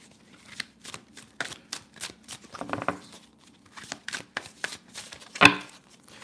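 Tarot cards being shuffled by hand, a run of soft, papery riffles and slaps in uneven bursts, close and fairly quiet, with no talking.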